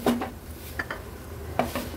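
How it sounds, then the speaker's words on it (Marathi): A lid goes onto a pot of simmering squid gravy: a few light metallic clinks and knocks close by, spaced apart, with no talking. "आता आपण ह्याच्यावर झाकण ठेवणार आहोत"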